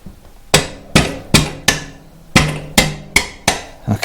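A hammer strikes the rear axle of a Royal Enfield Himalayan motorcycle while a 36-tooth rear sprocket is fitted. There are nine sharp, ringing metallic blows at a steady, slightly uneven pace, close and loud with no talk.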